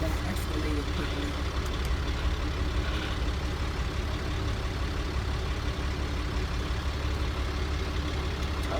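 A semi or dump truck engine drones steadily with a heavy low rumble throughout a test drive, continuous and fairly loud with no clear changes in pitch.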